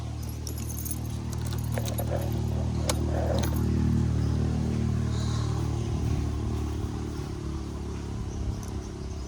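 Metal keys jangle and clink in short bursts over a steady low engine rumble, with faint insect-like buzzing in the background.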